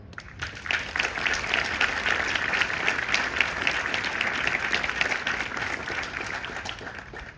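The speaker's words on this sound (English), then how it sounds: "Will you please give a big round of applause to Madame Marie Legrand." Sustained applause from an outdoor ceremony crowd for Madame Marie Legrand at the Normandy American Cemetery, steady dense clapping holding evenly throughout with no talk over it.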